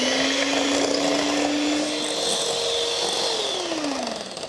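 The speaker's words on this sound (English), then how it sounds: "we're gonna whisk this up until it has increased in volume" An electric whisk whips double cream for ice cream, a steady loud whir holding one pitch, then its motor tone dropping slightly near the end.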